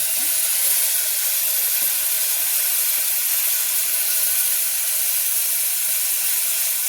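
Tomatoes fry in a pan while foxtail millet pulao is being cooked, giving a steady, close, broadband hiss that holds evenly throughout with no talking.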